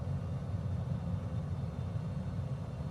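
A Beechcraft plane's engine drones steadily in flight in Microsoft Flight Simulator while departing Orly. The roar is continuous and heavy at the low end, with an even level throughout and no voices.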